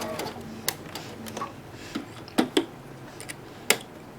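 A sewing machine stitches slowly over fabric seams while piecing a wheels-pattern quilt block, giving a soft hum broken by scattered light ticks and clicks.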